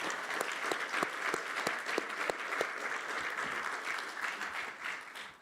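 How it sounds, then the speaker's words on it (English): A conference audience applauds the presenters at a statistics conference: a sustained round of clapping with some sharp individual claps standing out, fading slightly toward the end. "please join me in giving a warm round of applause to all the presenters"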